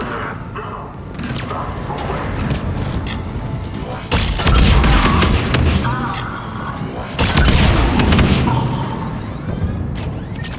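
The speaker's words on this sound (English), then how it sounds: "Those cannons have to be stopped." Heavy cannon fire in Mass Effect 3 on Omega, deep booming blasts landing in a few big bursts amid rumbling explosions and crashing debris, loud and close.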